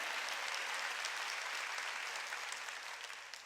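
A congregation claps during a Wednesday worship service in a church, giving a steady wash of applause from a large room that fades slightly toward the end.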